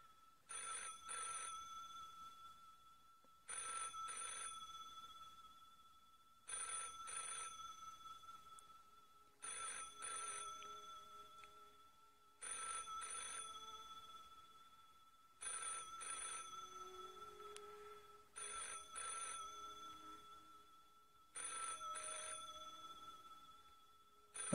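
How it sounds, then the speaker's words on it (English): Telephone bell ringing in the Spotlight Room Escape video game, sounding in eight evenly spaced bursts of roughly two seconds each, separated by short pauses, clear and steady with no talking over it. "Phone's ringing."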